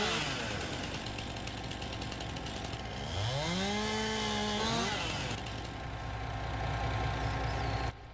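Tree felling in Farming Simulator 19, a steady buzzing saw-like engine drone that runs throughout at close range, with a rising then falling whine in the middle before it cuts off near the end.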